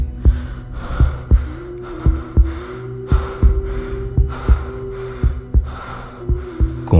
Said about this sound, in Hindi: तो सिर्फ अश्मित के हांफने की और उसकी तेज धड़कनों की।